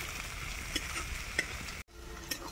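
Onions sizzle in a pan while a spoon stirs them during the making of a chicken curry with elephant foot yam. The crackle is steady and close, with scraping stirs, and it cuts out for a moment near the end.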